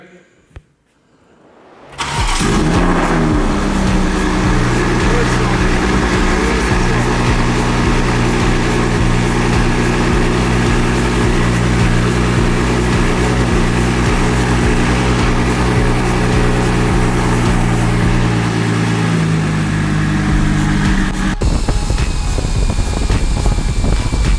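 A BMW M340i xDrive engine cranks briefly, then catches and settles into a loud, steady idle with a constant droning hum and fan-like whir, close to the car, continuing uninterrupted to the end.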